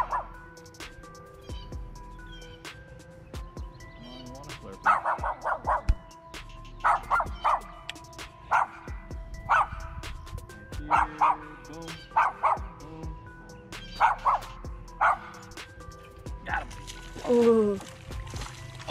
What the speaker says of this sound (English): this dog's barking